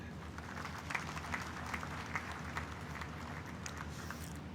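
A convocation audience gives a round of applause for university staff, faint and distant clapping from a large hall with a few louder claps rising above a steady low hum.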